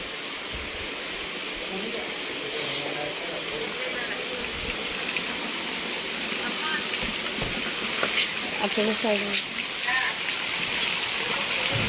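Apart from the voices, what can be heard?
rain falling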